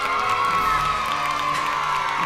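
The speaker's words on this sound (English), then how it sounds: "A fantastic cheer for a fantastic book." An audience of children cheers, whoops and shouts together in one loud, sustained burst for a big Bible book.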